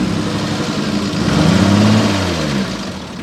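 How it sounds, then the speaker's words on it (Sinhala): A classic car engine in New Zealand revs up from a steady run, its pitch climbing to a louder peak midway, then easing back to a rough idle. It is close and alone, with no voices. "ඔන්න බලන්න මම එන්ජින් මේ වේගය වැඩි කරලා පෙන්නන්නම්."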